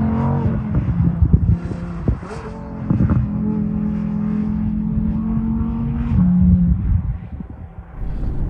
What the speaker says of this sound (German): er lässt dich so schnell hochdrehen und jetzt erst kommt der Schub